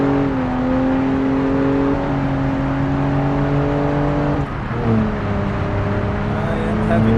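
A car engine strains under hard acceleration in a land speed challenge, wheels spinning even in third gear; a steady loud droning roar with rising pitch that dips and shifts midway as the gear or throttle changes.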